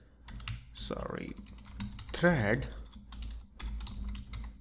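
Typing on a computer keyboard while writing C++ code, a rapid run of close key clicks mixed in with someone speaking.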